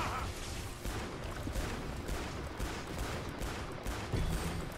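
Rapid gunfire rattles in Killing Floor 2 as a dense, continuous burst of shots, with a speaker's voice mixed in beneath the fast firing.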